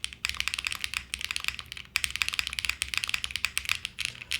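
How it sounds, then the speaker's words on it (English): Fast, continuous typing on a custom mechanical keyboard with HMX switches, close and crisp, with bright clacky keystrokes and a slight metallic ring under them, and a brief pause near the two-second mark. "Still has some of the metal noise, which I quite like."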